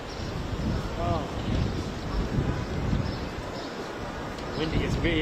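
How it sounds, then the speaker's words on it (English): Strong wind buffets an outdoor microphone, a loud continuous rumbling roar with gusty swells and a few faint voices in the background. "It's very windy."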